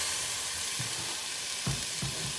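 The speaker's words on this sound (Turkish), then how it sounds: "Ispanaklarımı içerisine koyuyorum." Spinach dropped into tomato paste frying in a hot pan: a dense, loud, close sizzle with a few soft thumps and bursts as the leaves go in.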